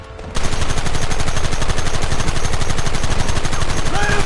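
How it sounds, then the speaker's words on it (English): Sustained rapid gunfire in a Red Dead Redemption shootout, a dense continuous rattle of overlapping shots that starts abruptly and stays loud throughout, with faint shouting near the end. "There they are! Open fire!"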